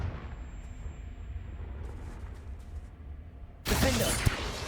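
Confringo blasting spell in the video game Hogwarts Legacy, a sudden loud explosive burst that erupts after a quiet stretch and crackles with debris for about a second.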